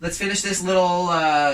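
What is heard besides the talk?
None of the usual background noises is heard.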